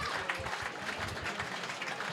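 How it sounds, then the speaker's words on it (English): Polite applause from a small crowd at a Vanarama National League football ground as two teams walk out, steady and moderate with low rumble beneath. "And polite applause."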